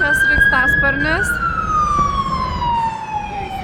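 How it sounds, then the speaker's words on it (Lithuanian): A fire engine siren on a Los Angeles street, a loud wailing tone sliding slowly downward with short yelping bursts at the start, over steady traffic rumble, with a voice briefly talking. "Čia gaisrinė, čia sraigtasparnis."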